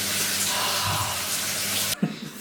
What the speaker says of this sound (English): I'm gonna go for a cold shower.